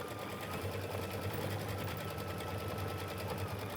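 A sewing machine stitches out a quilt block, running at a steady fast rhythmic hum with constant mechanical chatter throughout, close and continuous with no talking.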